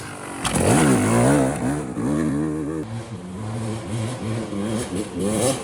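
A rebuilt dirt bike, assembled from a box of parts, climbs a hill with its engine revving up and down in repeated surges. The sound is loud and close, and no one speaks.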